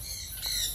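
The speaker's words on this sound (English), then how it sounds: "That's a falcon." A falcon at a safari park in Cebu gives a brief, high squawk, close and fairly loud, heard alone without talk.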